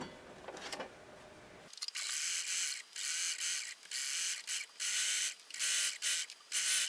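A sewing machine stitches garment pocket pieces for inseam pockets in a series of loud, close bursts broken by short pauses, as if backstitching at the start and end of the seam.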